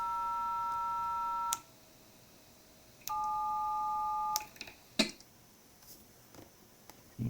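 DTMF dialing tones from an IFR test set ring out as two sustained steady dual-pitch beeps, separated by a pause, then followed by a few sharp clicks and taps.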